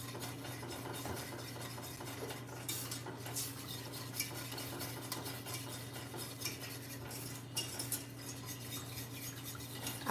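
A whisk scraping and clinking steadily against a pot as a sauce thickens on the stove, close and continuous under a low constant hum, with a few louder metallic taps.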